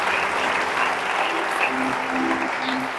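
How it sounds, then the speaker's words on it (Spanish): An audience at a church conference applauds steadily: thick, continuous clapping from a crowd, loud and even throughout, with no voices standing out. "El aplauso para el rey."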